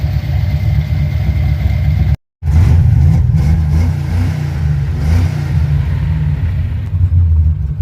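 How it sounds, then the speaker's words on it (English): A car engine fitted with an Edelbrock 1405 carburetor idles steadily with a close, even low rumble and a momentary cutout early on, with no talking. "we've got a rock solid idle now"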